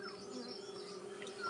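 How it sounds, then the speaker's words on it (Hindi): Honey bees buzz steadily around their hive on a morning in the UK. It is a faint, continuous hum with no talking. "सुबह मैंने जब ये मधुमक्खियों को दिखाया था अंधेरे के टाइम पे, और अब ये अपने काम में लग गई है।"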